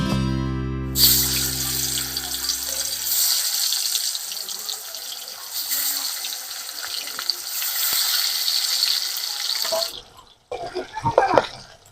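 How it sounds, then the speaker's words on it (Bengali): Chela fish frying in hot oil in a pan, a loud, steady, hissing sizzle close up that holds for about nine seconds before cutting off, with some faint clattering and a low hum at the start. "একে একে মাছগুলোকে ভেজে নেব"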